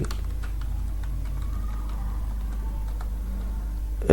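HTML code being typed on a computer keyboard, a quiet run of irregular close key clicks and taps over a low background hum, ending with a slightly louder knock.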